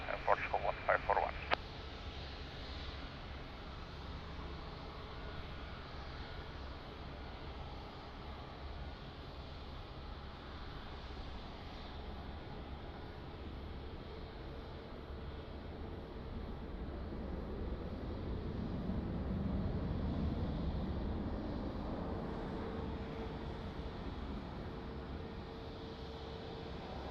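A jet airliner lines up on runway 02 at Lisbon Airport, its engines a faint, distant, steady rumble that swells gently toward the end, with a short crackle of radio at the very start.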